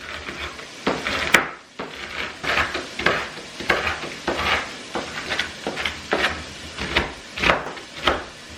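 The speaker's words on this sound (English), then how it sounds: "I'm going to chop this bacon up real quick so I can add it to that" A knife chops bacon on a cutting board in quick, regular strikes, about two per second, close and fairly loud, with a soft sizzle from a nearby pan underneath.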